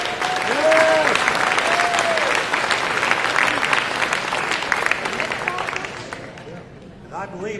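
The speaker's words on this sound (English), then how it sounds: "Give him a round of applause." A crowd at a community award ceremony breaks into sustained applause with scattered voices and whoops mixed in, loud and full for several seconds before tapering off, followed by a brief voice.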